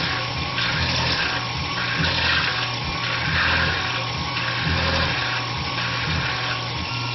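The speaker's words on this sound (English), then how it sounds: "This half-inch hole is being drilled at 1500 RPM with a 50 thousandths peck and 10 inches per minute." A Tormach PCNC 1100 CNC mill drilling a half-inch hole at 1500 RPM, pecking 50 thousandths at 10 inches per minute. It gives a steady, loud mechanical whir and hum with a gently pulsing rhythm throughout, and no voices.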